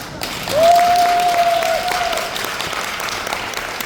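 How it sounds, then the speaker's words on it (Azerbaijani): An audience at an indoor business breakfast event applauds, a dense wash of many hands clapping that swells quickly, then eases off and continues steadily; a brief tonal whistle or tone rings through the start. "Alqışlar."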